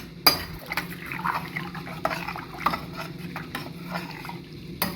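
A spoon stirs water through mutton biryani in a pot, scraping and clinking against the metal with soft sloshing in a steady rhythm, a few sharper knocks standing out.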